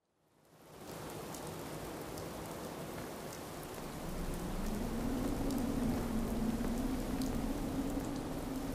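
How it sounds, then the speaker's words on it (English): Steady rain falls in the video game Fallout 4, a dense hiss that fades in and then grows heavier, with a low drone rising underneath midway. "Get out of this infernal rain."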